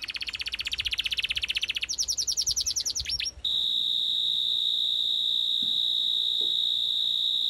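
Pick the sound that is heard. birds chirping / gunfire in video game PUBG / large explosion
birds chirping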